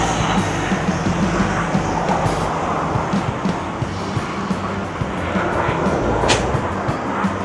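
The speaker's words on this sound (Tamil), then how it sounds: "இது பாருங்க, ஆஸ்திரேலியாவோட சென்ட்ரல் ரயில்வே ஸ்டேஷன்." Low rumbling ambience at Sydney Central railway station, Australia, with a continuous mechanical hum and scattered clanks and distant noises.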